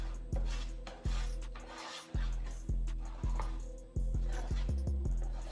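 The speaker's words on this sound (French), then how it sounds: "Tu vois, tu mélanges avec ta truelle là." Mortar paste is mixed with a trowel: a loud, close scraping and knocking stroke comes roughly every second, and the strokes quicken and crowd together near the end.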